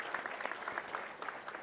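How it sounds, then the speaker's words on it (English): Applause at a police commissionerate event in Cyberabad, dense steady clapping from a crowd, lasting throughout, with a faint voice underneath. "I think that deserves a big round of applause for the CP Cyberabad."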